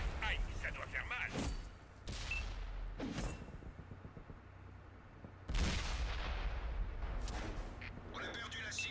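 A T44 tank's cannon fires in the PS4 version of World of Tanks on the Sand River map: a couple of sharp, loud booms with rumbling tails stand out over steady engine and battle noise, with occasional voices speaking.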